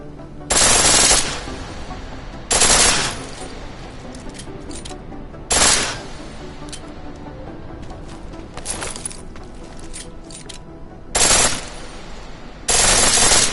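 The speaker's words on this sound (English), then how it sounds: "Pistol in full auto will take down targets fast, but it'll burn through your ammo." Pistol set to full auto in Deus Ex: Mankind Divided, firing five loud, sharp bursts of rapid gunfire separated by pauses, over a low background game ambience.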